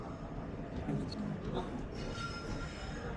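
A train stands at a platform of the large Tiruchirappalli railway station in Tamil Nadu, with a steady rumble, faint metallic clinks and a brief wheel squeal blending with a continuous murmur of voices nearby.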